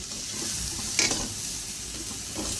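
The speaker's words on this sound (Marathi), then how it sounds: "हे सगळं गूळ विरघळेपर्यंत व्यवस्थित परतून घ्यायचं आहे" Coconut filling with jaggery is stirred in a pan, giving a soft continuous sizzle with scraping spoon strokes and one brief sharper clink near the middle.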